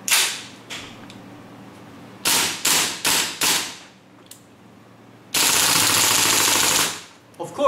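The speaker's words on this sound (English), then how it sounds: "Now we want to test the semi-fire and full auto mode." A RA-TECH WE XM-177 gas airsoft rifle loaded with green gas fires loud, close semi-auto shots, a single pop and then a quick string of four, before a sustained full-auto burst of rapid cracks lasting about two seconds.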